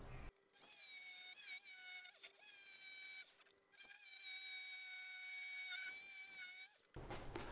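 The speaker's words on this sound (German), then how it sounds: "Also 4 cm Buche ist für so eine arme kleine Stichsäge jetzt auch nicht direkt nett" A small jigsaw cuts through 4 cm thick beech wood, its motor whine running steadily and loudly with a few short pauses and restarts, close by and alone without talk.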